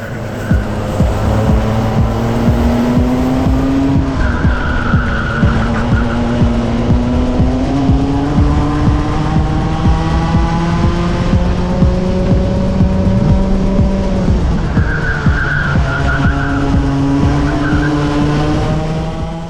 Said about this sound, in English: Goes a little bit sideways through that corner, and you can see it costs him about 2 kart lengths